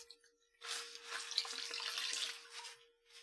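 Tap water runs steadily into a sink while hydro-dip dyed leather is rinsed, a soft hissing stream lasting a few seconds before tapering off, with no talking.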